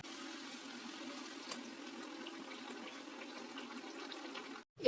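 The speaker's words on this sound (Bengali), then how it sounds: "এরপর এটা আমরা জল দিয়ে দেবো।" Water poured into a pan of spiced jackfruit kofta curry base, a faint steady wash of liquid running for several seconds before stopping abruptly.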